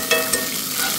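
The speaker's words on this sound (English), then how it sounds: "So we're gonna add some fresh garlic real quick." Fresh garlic sizzles hard in hot ghee butter over a high outdoor cooking flame, a close, steady frying hiss with a couple of quick stirring clinks.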